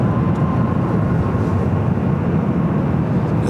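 Aircraft noise at Los Angeles airport, near Terminal 2 where a 767-300ER is pushed back, forms a loud, steady low-heavy roar that fills the whole stretch without a break.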